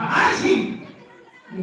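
A storyteller imitates a sneeze with his voice during a Tamil folk tale of a goddess, giving a loud, breathy burst close to the listener that fades into a softer exhale.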